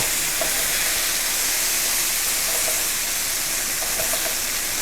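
Beef sears in a hot pan with a steady, close, even sizzle and hiss that holds without a break. Small crackles rise slightly now and then, and nobody talks.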